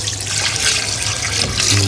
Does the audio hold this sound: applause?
no